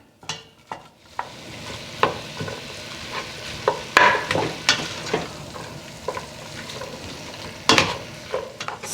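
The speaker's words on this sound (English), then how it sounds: "we're just gonna let this cook and get nice and brown and get the onion sauteed" Ground hamburger meat with onion browns and sizzles in a pan for taco soup, a steady close fry broken by repeated scrapes and stirs of a utensil against the pan.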